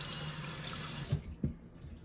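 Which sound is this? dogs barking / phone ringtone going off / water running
water running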